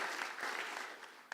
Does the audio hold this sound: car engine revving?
no